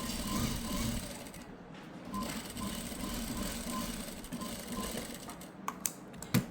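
A sewing machine runs on a blouse in a continuous low mechanical whir with a light rattle, ending in a few sharp clicks and knocks.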